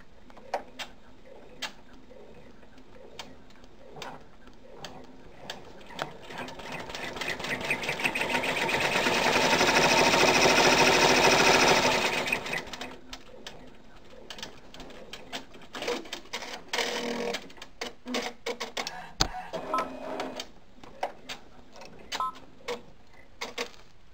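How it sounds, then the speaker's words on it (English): An embroidery sewing machine runs a quick placement stitch on a stuffed reindeer toy, with rapid ticking needle strikes that build into a dense, loud run mid-clip, then taper back to scattered clicks and handling noises. "we're going to run that placement stitch really quick"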